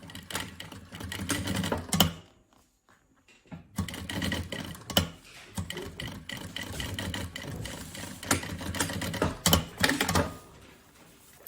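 A sewing machine stitches a backpack strap into place, running in short bursts of rapid mechanical stitching with a brief pause near the start.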